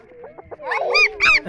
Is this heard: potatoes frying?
no